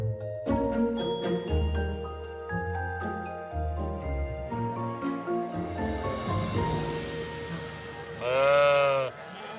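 Sheep bleating near the Aletsch Glacier in the Swiss Alps as the flock heads home. A single loud, close bleat comes near the end over a background of music.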